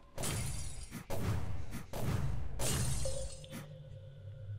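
Ice shattering in a video game, three or four loud crashing breaks with crackling debris, each burst sharp and close, ending with a fading ringing tone.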